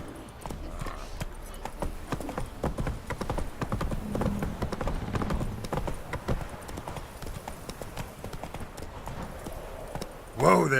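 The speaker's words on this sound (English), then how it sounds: "Whoa there, Roach." A horse in the video game The Witcher 3: Wild Hunt gallops in steady, rapid clip-clop hoofbeats throughout, close and continuous, with a voice talking over the hooves.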